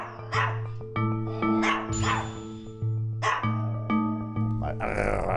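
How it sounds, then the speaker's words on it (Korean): Repeated sharp dog barks, close and loud, coming in a steady series with a constant low hum running underneath. "아서 소리 내는 거 봐."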